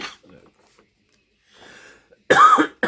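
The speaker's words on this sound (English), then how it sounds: "Oh man, I got a cough." A man coughs near the microphone: a faint throat sound early, then one loud, harsh cough followed by a brief second burst at the end.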